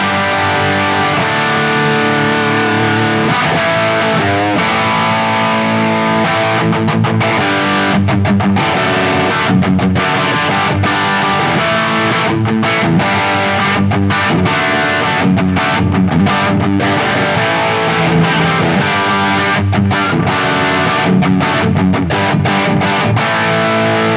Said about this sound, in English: It's a distorted one with a crunch. This isn't a very heavy distortion